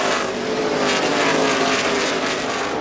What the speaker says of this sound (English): Here comes the 17 car up high, goes sailing by the 22.